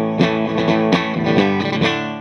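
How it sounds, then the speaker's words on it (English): A heavily distorted electric guitar, played through a vintage Orange Distortion pedal, plays a short run of chords and notes, loud and saturated with a long ringing tail. "let's hear what the Orange Distortion sounds like"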